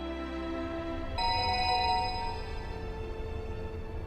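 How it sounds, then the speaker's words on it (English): Cell phone ringing in the video game 428 Shibuya Scramble: a bright electronic chime cuts in abruptly over a low musical backdrop and rings on steadily, sustained tonal notes, no voices. "Abruptly, Maria's cell phone rang in Stanley's pocket."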